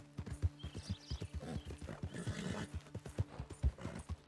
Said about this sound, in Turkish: Haydi oğlum sen Arap atısın, hızlısın diye seni aldım lan. Yürü!